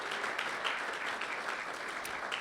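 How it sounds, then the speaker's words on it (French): A church congregation at Lac-Mégantic claps in praise of the Lord, a steady, even wash of applause that holds for a couple of seconds with no voices over it. "Est-ce qu'on peut applaudir le Seigneur?"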